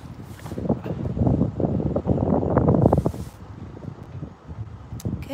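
Cold wind blowing outdoors where poodles are playing, a steady rushing gust noise that swells and fades with some rustling, heard alone without talking.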